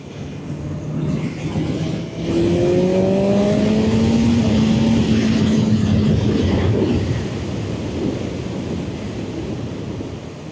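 A BMW S1000RR liter-class motorcycle engine drones under way, its pitch climbing and holding before easing off. The close, loud engine note blends with heavy wind rush, and no one speaks.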